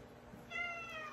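A domestic cat lets out a single drawn-out meow partway through, fairly close against a quiet room background, with no one speaking.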